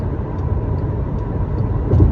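Road traffic passes nearby, a continuous low rumble of cars and heavier vehicles with engine drone that swells toward the end as a vehicle goes by; no one speaks.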